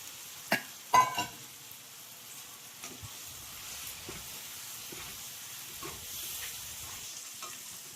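Cleaned goat tripe (boti) dropped into a pan with fried chili powder, sizzling and hissing softly with a few sharp pops and stirring scrapes near the start, then a steady low frying hiss throughout.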